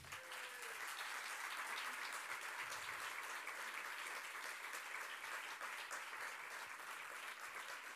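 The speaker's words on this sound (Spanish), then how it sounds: "te vamos a despedir con este fuerte aplauso" A theater audience claps in strong, steady, dense applause that holds at an even level throughout the clip, with no voices above it.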